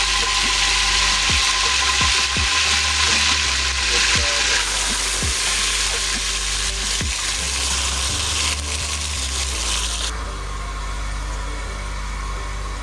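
Ground masala hits hot ghee for a chicken-feet curry, giving a loud, steady, crackling sizzle that runs throughout with faint clicks and no talking.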